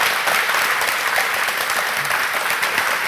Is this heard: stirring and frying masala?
no